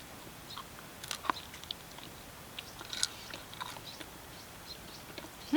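Close, quiet chewing and crunching of food at a riverside campsite, with a few sharp bites and soft irregular crunches over faint outdoor background and no talking.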